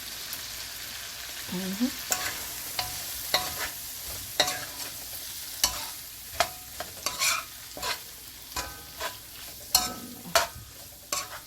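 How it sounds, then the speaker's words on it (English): Seasoning frying in a pan for Jamaican-style egg fried rice, a soft steady sizzle punctuated by frequent sharp utensil taps and scrapes in an irregular rhythm, close by. "then we start ready to fry up the seasoning"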